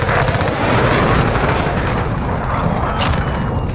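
Dense, continuous gunfire from the Call of Duty: Modern Warfare video game, rapid automatic bursts and heavy booms layered into an unbroken loud barrage for the whole stretch.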